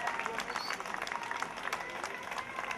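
Crowd applause rises for a military contingent at a parade marking the 102nd anniversary of the Revolution in Tehuacán, a dense, steady wash of clapping and crowd noise throughout.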